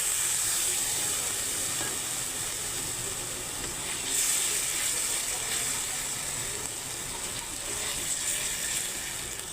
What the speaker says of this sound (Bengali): মশলাটা না পুড়ে যায় তার জন্য সামান্য একটু জল দিয়ে দিচ্ছি